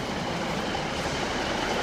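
A train at Glasgow Central railway station rumbles steadily in a broad, continuous wash of rail noise that stays even and moderately loud throughout.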